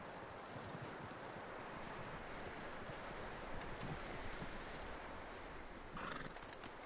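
Horse hooves clip-clop steadily alongside neighing and snorting in Red Dead Redemption 2, close and fairly quiet, with a faint windy background.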